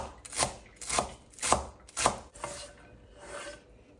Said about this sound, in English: and then cut it into small pieces